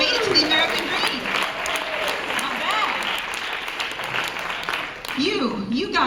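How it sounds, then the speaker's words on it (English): An audience claps steadily throughout, with people talking and calling out over the applause at close range. "Round of applause for the people that made it to the American dream."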